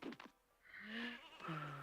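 Sheep bleat twice in an N64 video game, a short pair of synthetic, wavering cries with a gap of near silence between them.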